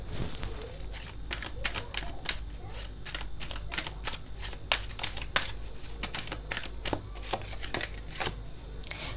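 Energy oracle cards are shuffled by hand, producing quick, close riffling and snapping bursts in an irregular rhythm, fairly faint and without talking.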